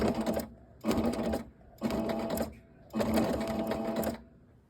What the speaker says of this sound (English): I took this little bit of fabric to my sewing machine